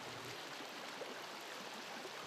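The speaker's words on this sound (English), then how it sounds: "you'll find Kent Kleckner knee-deep in a gurgling creek" A gurgling creek near Decorah in northeast Iowa in winter, a faint continuous rush of flowing water with no other sounds.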